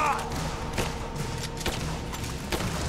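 Scattered gunshots in the video game Rise of the Tomb Raider, a few sharp separate cracks and thuds spaced about a second apart over a steady game background.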